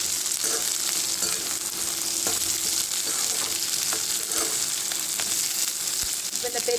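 Small shallots and big onions being sautéed in a pan for a spicy brinjal kara kuzhambu, a loud continuous sizzle and frying hiss with occasional stirring scrapes, close and without speech.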